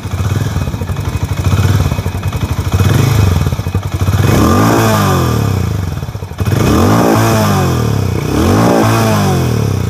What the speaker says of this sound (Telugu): ఇది మనము దీన్ని ఒకసారి స్టార్ట్ చేసినట్టయితే మనకి ఎగ్జాస్ట్ నోట్ మనం విందాము